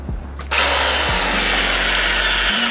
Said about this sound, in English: we're gonna make a bigger hole on both of these sides with my trusted drill and a Dremel bit